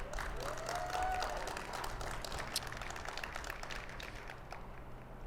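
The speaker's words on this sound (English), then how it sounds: "Let's give a round of applause to all of them." A gala audience at a nonprofit fundraising dinner gives a sustained round of applause, faint and distant, a steady wash of clapping from a large room with a brief whistle near the start.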